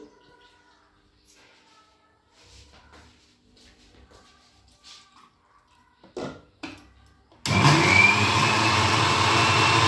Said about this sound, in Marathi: आता मी हे बारीक करून घेते मिक्सरवर.